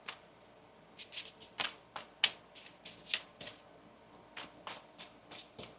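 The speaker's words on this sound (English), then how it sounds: "One more shuffle here." Tarot cards being shuffled by hand, a string of crisp riffling bursts and soft slaps at an uneven rhythm, close and clear in a quiet room.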